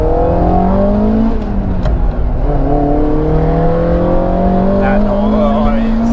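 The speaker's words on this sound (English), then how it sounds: "That's definitely the best thing about the car, is that noise." A Toyota AW11 MR2's 4A-GE engine revs loudly from the cabin, pitch rising and falling through gear changes with a steady droning roar and some speech beneath.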